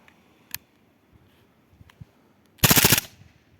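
An SAS PT 99 CO2 airsoft pistol, a licensed Beretta 92 copy, fires a few scattered single sharp snaps and then one loud rapid automatic burst, close and alone.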